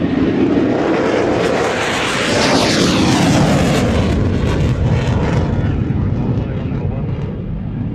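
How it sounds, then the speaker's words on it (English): A Eurofighter jet flying at an air show, a loud, roaring engine rush that swells and sweeps past close by, then slowly fades, with a heavy low rumble throughout. "Eurofighters downwind"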